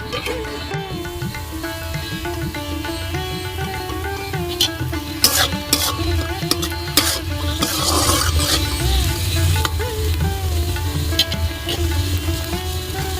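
Sliced onion and green chili sizzle steadily in a hot pan with a pinch of chili powder, a continuous frying hiss broken by a few scraping stirs, with talk faintly present.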